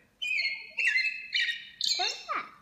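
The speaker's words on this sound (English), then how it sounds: "That sure is a catbird." A gray catbird gives a series of four or five close, clear whistled and squeaky call notes, ending with a harsher descending mew, in an otherwise quiet outdoor setting in Florida.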